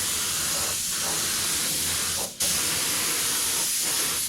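A Harbor Freight spray gun sprays black paint onto a 1967 Camaro RS SS, giving a steady close hiss with two brief pauses and one sharp burst of air midway.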